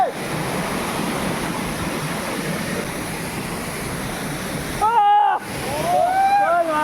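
A waterfall in Purulia sends a steady, loud rush of falling water onto rocks, filling the whole stretch, while brief whistle-like chirps and voices rise near the end.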